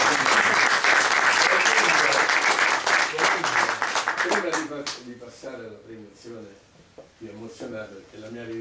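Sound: applause for the hostess

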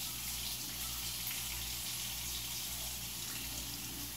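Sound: water running from kitchen faucet to rinse a hot cast iron pan

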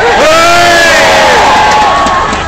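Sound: crowd cheering for an Olympic torchbearer

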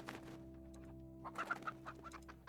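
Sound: chickens clucking in video game ALTF4

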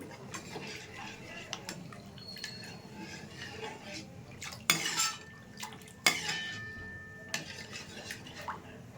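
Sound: stirring milk powder into a pot

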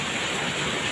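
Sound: heavy rain falling

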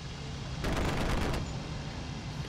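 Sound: aircraft gunfire in the video game IL-2 Cliffs of Dover

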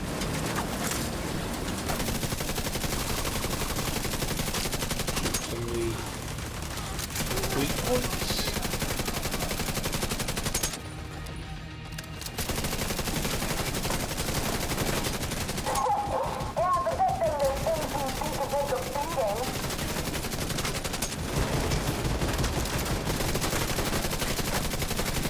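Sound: turret gunfire in the video game The Division 2

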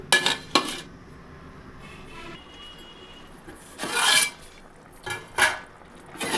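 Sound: lid put on pot of simmering curry

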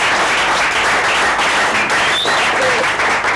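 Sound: congregation applauding to acclaim Jesus Christ

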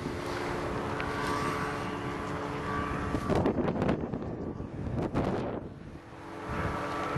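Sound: aircraft coming in for a landing

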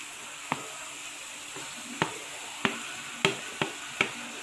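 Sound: tomatoes and green chilies sizzling in pan with ginger garlic

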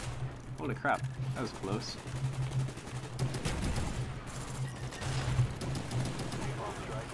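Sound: Python pistol gunfire in Black Ops video game

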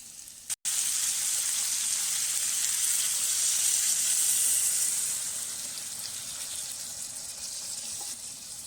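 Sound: water added to sizzling prawn masala

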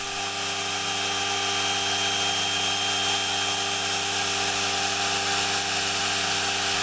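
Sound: automatic milling machine cutting buffalo horn eyeglass temples

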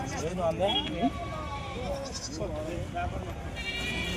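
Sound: pregnant goats bleating at a livestock market

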